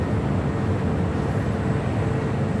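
A JetBlue Airways Airbus A320 arriving at LAX, a broad steady jet roar that stays loud and even throughout, with no voices over it.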